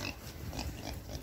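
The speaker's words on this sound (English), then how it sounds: "Hi, big pigs." Big farm pigs in a winter deep freeze, giving a few soft grunts and oinks close by at low level, with no talk.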